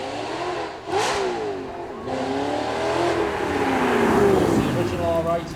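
Audi R8 supercar engine at a supercar weekend event, revving and accelerating with rising and falling pitch, loud and near, with crowd noise and voices around it.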